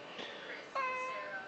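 An ailing cat meows twice, a short cry followed by a longer, drawn-out mew, close and fairly clear over a quiet room.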